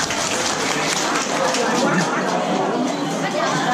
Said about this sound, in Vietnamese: Rồi cháu một tràng pháo tay đi mấy em.